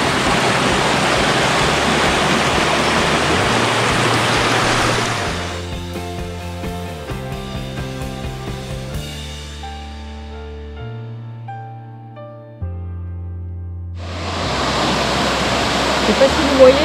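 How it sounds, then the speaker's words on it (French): Roaring Cascade de Thor waterfall in the Lot, France, a steady dense rush of water for about five seconds, giving way to a musical interlude before the loud torrent returns near the end. "on est à la cascade de Thor"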